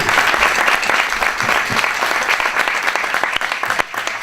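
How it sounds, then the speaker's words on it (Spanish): Audience applause at a cabaret performance, a loud, dense burst of many hands clapping that runs steadily for about four seconds with no pause, a faint voice barely present underneath. "Aplaudir un poquito con..."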